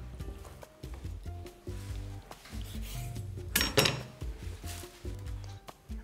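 Knife chopping raw liver into large pieces on a board, a quick run of close, firm thuds and knocks with a brief louder scrape partway through, no talking.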